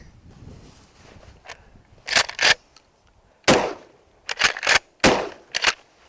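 Glock pistol firing at close range: a string of about eight loud, sharp reports in irregular clusters, several coming in quick pairs and triples, with quiet gaps between them.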